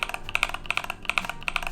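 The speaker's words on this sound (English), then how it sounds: "I'll also talk about the mods that I did to make the keyboard sound like this" Typing on a modded Epomaker TH80 mechanical keyboard with Feker Matcha parts: crisp, close keystrokes in quick irregular bursts, with some louder clacks, and no talk.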